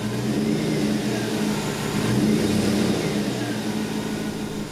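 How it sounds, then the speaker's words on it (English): A vehicle engine loaded up in reverse with the brakes held, just after a transfer case rebuild: a steady, loud mid-pitched drone with slowly wavering tone and no clunks throughout. "Now let's try loading the engine up by holding the brakes while it's in reverse."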